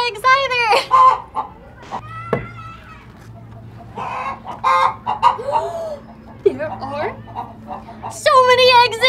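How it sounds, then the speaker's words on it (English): Chickens on a farm in a children's animated show cluck and squawk loudly in uneven bursts, with voices talking between and over the calls. "There's a really big chicken in here"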